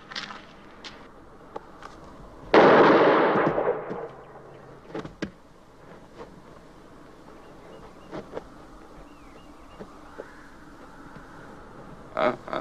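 A single loud gunshot rings out in a western film duel, a sharp crack with a short decaying tail, set among quiet pauses, small clicks and spoken dialogue.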